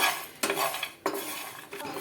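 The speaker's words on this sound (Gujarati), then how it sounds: "હવે આપણે ગેસની ફ્લેમને ચાલુ કરી દઈશું અને બધી વસ્તુને આપણે સારી રીતે શેકી લેવાની છે।" Coriander seeds and cumin are dry-roasted in a pan over a gas flame, with a few sharp metal scrapes of a spoon stirring against the pan between quieter rattling, close and clear with no talk.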